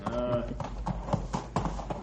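Horse hooves clip-clop on a rocky trail strewn with loose rock, a run of close, regular thuds under a man's speech.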